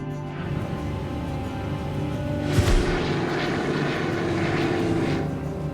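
A propeller aircraft's engines run up to takeoff thrust, a loud, steady, close droning roar with a brief low thump near the middle, and no voices.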